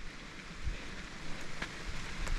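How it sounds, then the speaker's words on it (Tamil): Rain falls steadily on a hill trek at Yelagiri, a faint, even hiss of drops with a few soft patters, with no voices. "மழை வர ஆரம்பிச்சிருச்சுப்பா"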